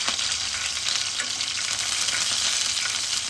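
Green chilies sizzling hard in a couple of spoons of hot oil with whole garam masala spices, a loud, steady, crackling fry close up with no voices.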